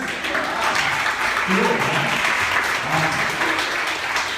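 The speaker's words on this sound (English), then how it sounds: "Yes, round of applause, yes." A live audience at a rhythm talk breaks into a steady, full round of applause that holds at an even loudness throughout.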